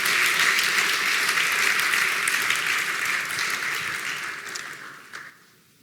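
Warm applause from a conference audience in an auditorium, a dense steady wash of clapping that holds for several seconds, then thins and fades out near the end.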